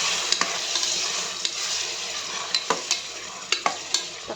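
Tomatoes sautéing and being stirred in a pan for tomato rice after ginger and garlic, a steady sizzle with scattered spoon scrapes and clicks against the pan, close and continuous with no talk.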